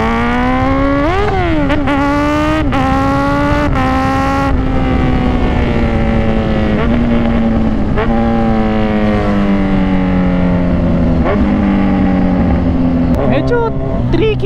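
A Kawasaki Z1000 motorcycle engine roars loud and close inside a tunnel near Tagaytay, with rising and falling pitch from sharp revs early on, then a long steady drone that slowly drops, echoing off the tunnel walls.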